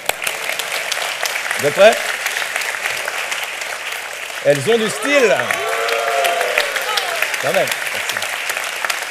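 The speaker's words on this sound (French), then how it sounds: "Applaudissements." Studio audience applauding on a television set as a belt is presented live, steady clapping running throughout while a host talks over it.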